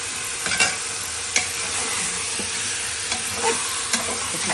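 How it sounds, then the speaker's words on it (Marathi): Mutton pieces sizzle and fry on a full-gas flame while a spoon stirs them, a steady loud hiss broken by a few scraping knocks of the stirring utensil. "आता हे असं जरा परतून घेतलं फुल गॅसवर"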